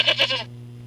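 A single goat bleats loudly in a radio advert for a car dealership, a short wavering cry of a few pulses that cuts off abruptly, leaving a steady low hum.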